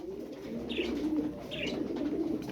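Pigeons coo softly in a loft holding hundreds of birds, with two distinct rolling coos rising over a low murmur of other birds, moderately faint and without talk.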